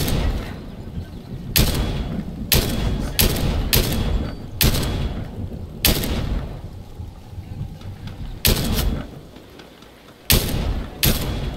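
Gunfire in the video game Fortnite: about ten loud, sharp blasts at irregular intervals, each with a short booming tail, over a low rumbling game background.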